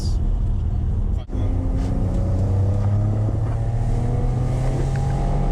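Renault Alpine GTA V6 engine droning under acceleration while driving, a steady low hum with rising tones and wind noise, with a short thump early on.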